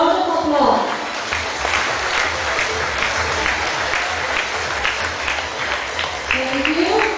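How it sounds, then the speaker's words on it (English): Applause from a large audience of student officers and advisers at a school leadership training in a hall, steady dense clapping sustained throughout, with a voice over a loudspeaker briefly at the start and end. "Let us give them a round of applause."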